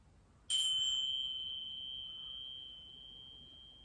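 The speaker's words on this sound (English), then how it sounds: "we'll start as we always do with the bells." A single bright meditation bell tone strikes once and rings out with a long, steady, slowly fading sustain in an otherwise quiet room.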